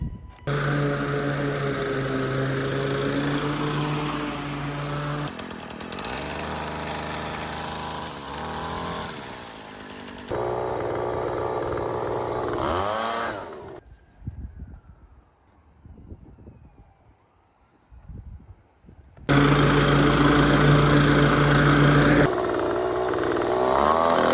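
Lawn mower mowing a residential yard in Texas, a loud continuous engine drone that shifts pitch with load, drops away to quiet for several seconds mid-clip, then returns at full loudness.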